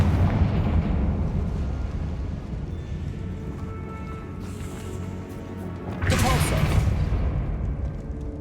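In Hogwarts Legacy, a Confringo spell explodes amid dense, continuous game rumble, with a sharp, bright burst near the end that swells over the steady low roar.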